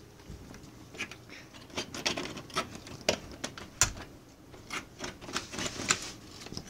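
Heavy rain and storm noise outside a house during a tornado, a dense patter of irregular taps and knocks close by, with no talk.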